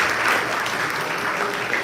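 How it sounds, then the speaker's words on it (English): Audience applause for the volunteer mentors at Bhagwat Geeta Ved Mandir in New Jersey, a full, even rush of many clapping hands that holds steady across the brief stretch with no talking over it. "Let's give them a big round of applause for the very sincere Sewa that they do."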